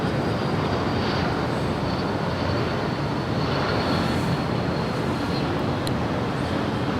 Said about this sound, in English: That is Delta Airlines Flight 458 coming in from Boston. It's a 25-year-old 757-200.